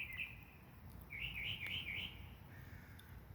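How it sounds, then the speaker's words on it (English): Birds chirp and trill in short bursts over a low steady background rumble, one bright warbling phrase standing out in the middle. "like these birds, they just sing and they sing in the morning."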